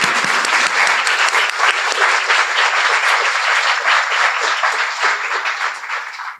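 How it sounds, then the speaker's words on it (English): Audience applause at an academic professorship installation ceremony, a dense, sustained wash of many hands clapping that holds steady for several seconds before tapering off at the end. "Can we give Fiona a round of applause,"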